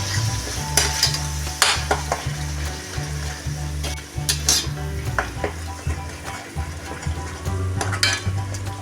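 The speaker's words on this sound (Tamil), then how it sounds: "இது எல்லாத்தையும் ஒரு 5 நிமிஷத்துக்கு வதக்கி விட்டுக்கலாம்" Ginger pickle with ground mustard-fenugreek powder is sautéed in oil, with a loud, continuous sizzle under repeated scraping stirs and sharp metallic clinks of a spoon against the pan.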